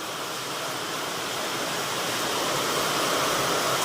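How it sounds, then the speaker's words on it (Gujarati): Heavy rain drums on a metal sheet roof as a dense, steady roar with no breaks. It stays loud and close and swells slightly toward the end, with no voices. "વરસાદમાં વધારો પતરાનો અવાજ આવતો એ સાંભળો"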